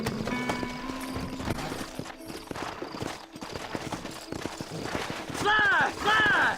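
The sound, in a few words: horses galloping, hooves clip-clopping, in video game Red Dead Redemption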